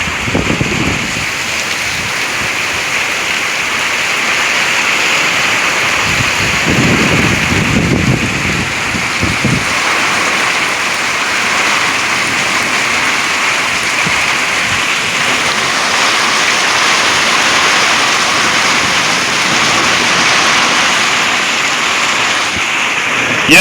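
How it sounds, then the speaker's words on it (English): Heavy rain pours down hard and steadily in a severe thunderstorm with strong winds, a loud unbroken hiss of downpour with low rumbling gusts early on. "Raining so hard you wouldn't hear nothing."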